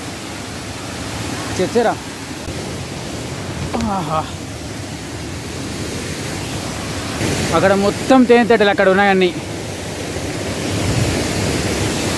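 The Chechchara waterfall roars as a loud, constant rush of falling water, with someone speaking intermittently over the steady torrent.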